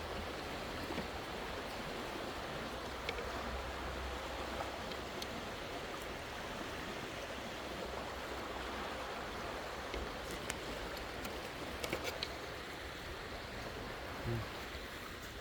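A constant, dense roar of a fast-flowing, overflowing river fills the scene, steady and unbroken, with a few faint clicks on top.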